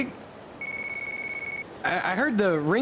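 Phone ringtone from Yakuza 4: a single steady electronic tone holds for about a second, then a voice speaks over it.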